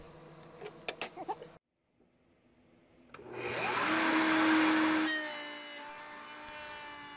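A router with its bit set about a quarter inch deep cuts a rabbet into a speaker baffle. A few faint clicks and a short silence come before a loud, steady whining roar that then eases to a lower hum.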